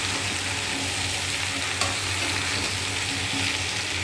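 Vegetable curry with tomato sizzling and frying in a small, overfilled wok, with steady close crackle and gentle stirring scrapes throughout.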